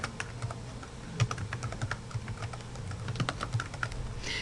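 Typing on a computer keyboard while entering a cell name in Excel: a steady run of light, close key clicks at an even pace, alone with no talking.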